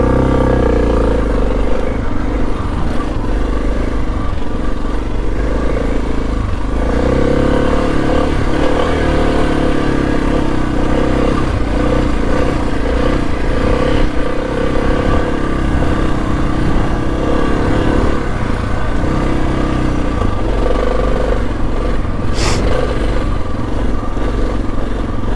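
A Suzuki DR650 motorcycle climbs a dirt hill, its single-cylinder engine droning loud and steady under load with rough clattering and wind buffeting throughout, as if heard from the rider's position.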